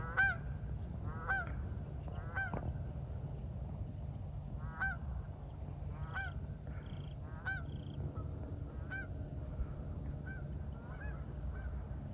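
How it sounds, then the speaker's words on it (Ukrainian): A flock of migrating geese honks in flight in repeated, scattered, overlapping calls, moderately distant, over a steady low rumble of background noise in the autumn countryside. "Відлітали гуси у теплі краї."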